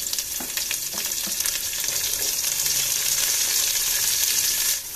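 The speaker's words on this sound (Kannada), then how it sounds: "ಈರುಳ್ಳಿ ಚೆನ್ನಾಗಿ ಫ್ರೈ ಆಗ್ತಾ ಇದೆ" Onions, green chillies and curry leaves sizzle steadily in hot oil in a pan, a loud close crackling hiss that runs without a break, with no voices.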